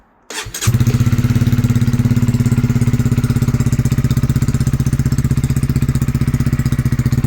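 A Honda CB125R fitted with a Scorpion full exhaust system fires up and settles into a steady, loud, throbbing idle close by, with no one talking.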